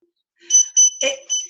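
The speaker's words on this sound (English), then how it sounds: "So you'll see it kind of beeps." A series of short, high electronic beeps, four or five in quick succession, close and clear against silence.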